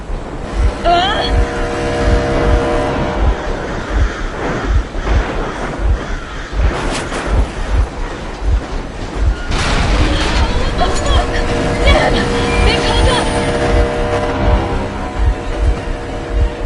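A vehicle engine runs steadily in a PS4 police-chase video game, a continuous loud rumble under game music, effects and surges of noise, with game-character voices talking over it.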